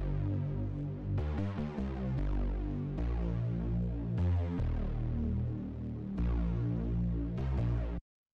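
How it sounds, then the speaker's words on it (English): A deep synth bass line plays alone in a steady pattern of sustained low notes, with a few pitch changes along the way. "So then the last synth that we have here is this bass kind of thing"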